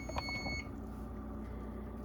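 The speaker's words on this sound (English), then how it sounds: "we're going to shut our timer off" Kitchen timer beeping while baking burnt butter sourdough chocolate chip cookies: a short burst of high, steady electronic beeps that cuts off after about half a second, leaving a low kitchen hum.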